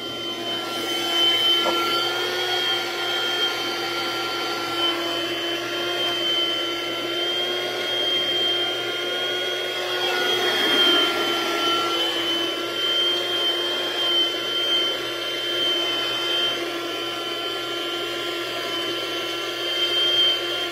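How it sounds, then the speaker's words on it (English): A Bold car vacuum cleaner running continuously, a steady high-pitched motor whine with airy suction roar that shifts slightly in pitch midway, close and loud with no talking. "We have a Bold vacuum cleaner, and I'm just going to start sucking."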